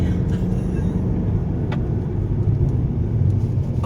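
A car in sport mode on narrow, winding roads in the Dolomites, heard from inside as a steady, loud low engine and road rumble with no talk.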